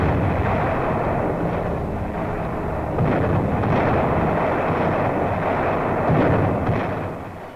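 Heavy bombing during WWII Allied air raids on Sicilian escape ports, rendered as a continuous roar of deep, rumbling explosions with repeated swells, loud and dense throughout with no talk, fading slightly at the end.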